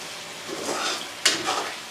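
Stuffed eggplant with red chili frying over low heat in a pan, a continuous close sizzle with a brief stirring scrape partway through, no talking.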